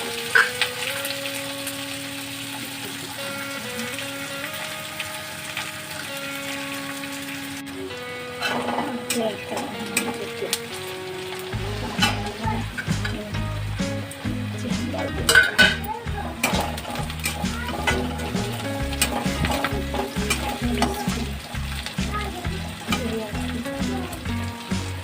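Potatoes fry in a pan for aloo dum, a hiss and crackle of hot oil with the clink of a spoon and utensils stirring against the pan, while steady music plays throughout at close range.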